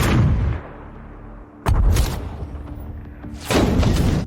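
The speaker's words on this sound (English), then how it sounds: "With a deafening explosion, all the satellite launchers in the gorge were destroyed." Satellite launchers in a gorge blow up in a chain of explosions. Three heavy, deep booms come one after another, each with a long rumbling tail. No one speaks.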